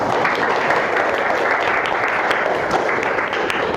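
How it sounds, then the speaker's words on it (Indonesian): Students in a classroom clap together in a dense, fairly loud burst of applause with a slightly rough, uneven texture, continuing steadily through the moment. "Ya, tepuk tangan dulu untuk kita semuanya."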